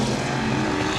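Outlaw sprint cars roar around Baer Field Speedway during a Hoosier Outlaw Sprint Series race, a loud, dense, high-revving engine howl sustained through the brief moment.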